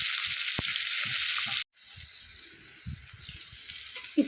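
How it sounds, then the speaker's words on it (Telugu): Carrot and tomato pieces fry in oil for village-style sambar, giving a steady close sizzle with soft stirring clinks, a brief break midway, then the frying carries on. "ఇప్పుడు క్యారెట్ టమాటా ముక్కలు ఇవి కూడా వేగాలి."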